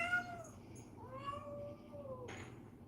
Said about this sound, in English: Boss Kitty is really vocal tonight, folks